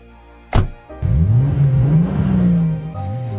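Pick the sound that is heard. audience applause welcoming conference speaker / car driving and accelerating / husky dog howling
car driving and accelerating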